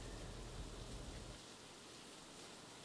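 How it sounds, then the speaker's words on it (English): Heavy rain pours down during severe weather in Poteau as a front moves in, a dense, steady hiss of downpour, faint and distant, that grows thinner partway through, with no voices. "you can see the heavy downpour of rain, which in the last 60 seconds has really picked up"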